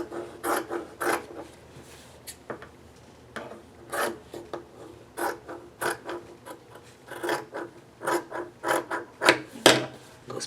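Scissors cut apart fabric pieces at a sewing table, with repeated close snips and rasping shears in irregular bursts, some quick runs of several cuts.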